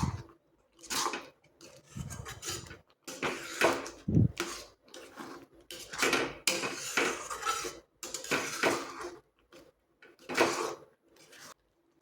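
A spoon scrapes and clanks against a pan while a corn and milk mixture for makai no chundo is stirred, giving irregular bursts of metallic scraping separated by short pauses, close and clear with no talk.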